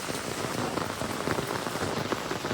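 Heavy rain pours down in a steady, dense hiss of drops hitting surfaces, loud and continuous throughout with no voices.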